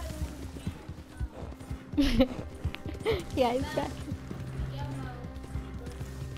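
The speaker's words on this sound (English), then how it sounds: "Mr. Carrot is a terrible horse. He's bucking." Horse bucking in Red Dead Redemption 2: hoof clatter, tack rattle and snorting bursts come in two rough surges under a short spoken line and background game noise.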